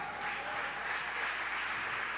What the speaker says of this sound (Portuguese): dá glória e aplauda ao Senhor